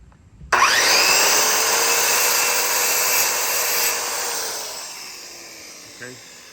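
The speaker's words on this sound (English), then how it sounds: "Cut my dowel right quick," A power tool bites into a 19-inch wooden dowel with a sudden loud, whining cut that holds for several seconds and then trails off, close by and with no voices over it.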